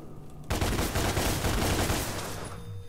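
Gunfire in the video game Devil May Cry comes as one continuous rapid burst of shots that starts abruptly and hammers on for about two seconds before easing off, loud and close with nothing else over it.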